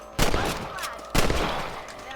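Two loud rifle shots in the Red Dead Redemption video game, evenly spaced about a second apart, each with a sharp crack and a short echoing tail while hunting rabbits.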